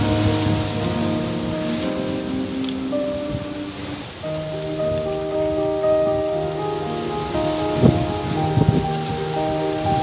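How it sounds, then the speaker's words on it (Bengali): Rain falls steadily outdoors on a cold rainy day as wind stirs the trees, a continuous even wash of patter with a few sharper drops near the end, fairly quiet and with no voices. "দেখেন বাতাসের কি শব্দ হচ্ছে।"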